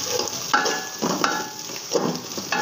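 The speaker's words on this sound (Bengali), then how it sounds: "ইচ্ছা মাছটি দিয়ে ভালো করে ভেজে নেব।" Small ichha shrimp frying with spinach in a pan, a steady close sizzle with a few louder stirring scrapes spaced about every half second to second.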